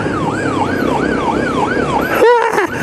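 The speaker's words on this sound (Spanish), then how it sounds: "aquí esto tiene una sirena" A Honda XRE 300 motorcycle's siren wails, rising and falling in a steady rhythm, close and loud, then shifts into a rapid yelping pattern near the end.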